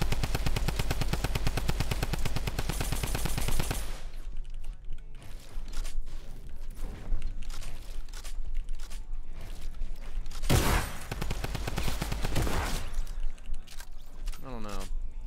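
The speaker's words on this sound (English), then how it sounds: "I love the sound of the shotgun." A shotgun fired in a video game, sharp blasts followed by mechanical clicks and rattles of reloading, with a steady loud hum at the start and scattered impacts afterward.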